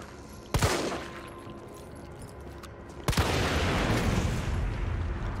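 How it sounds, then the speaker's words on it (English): Gunfire in the Resident Evil 3 Demo game, two sharp loud shots about two and a half seconds apart, each followed by a lingering rumbling tail over background game ambience. "I shot you in the head 3 times"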